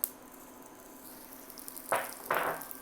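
Curry leaves and jalapeno peppers dropped into hot oil for a green tomato stew give two sharp, loud bursts of sizzling near the end, rising over a quiet background hiss.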